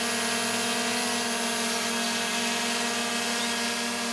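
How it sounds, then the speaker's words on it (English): A DJI Mini 3 Pro drone hovers close by, its propellers giving a steady, loud whining buzz with stable tonal harmonics that holds unchanged throughout, with no voices. "Now here you can see the drone hovering probably about 50 centimeters from my"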